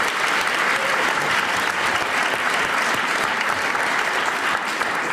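Loud, sustained applause from a television studio audience on a German entertainment show, dense and steady clapping filling the whole stretch without pause.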